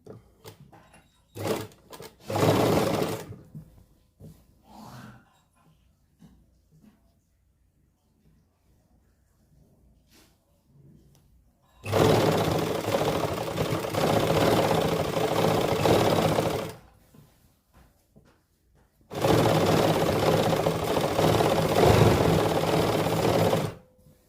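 Electric sewing machine stitching lace onto a suit's hem and side slits, running in bursts: a couple of short runs early, then two long steady whirring passes of several seconds each, with quiet pauses between.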